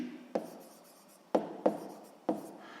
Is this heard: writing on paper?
yes